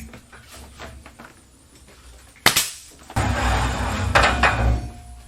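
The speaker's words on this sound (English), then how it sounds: "I have to just start nailing this end." Wooden wall boards being nailed by hand inside a home with no drywall: a few sharp, loud impacts ring out, one isolated strike followed by a burst of several close blows over a noisy indoor background.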